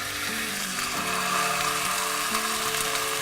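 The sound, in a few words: lamb shanks searing in olive oil in a pan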